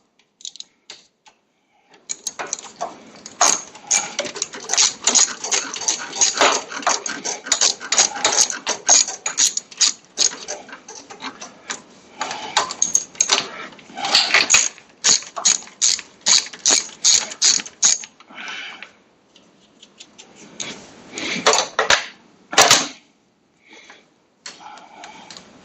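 A hand ratchet loosens the two nuts holding the carburetor on an 18.5 Briggs & Stratton Intek engine of a Craftsman riding mower, with fast clicking runs repeated in bursts and short pauses between them, close and clear.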